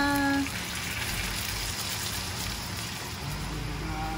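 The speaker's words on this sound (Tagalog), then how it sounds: "Carl, sunod na natin yung tubig" Water gushes steadily into a cooking pot for honey garlic ribs, a continuous splashing rush that carries through the whole stretch with no pause.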